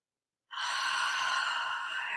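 A single loud, breathy exhale during a guided meditation begins abruptly after a short silence and sustains evenly for nearly two seconds, close and alone.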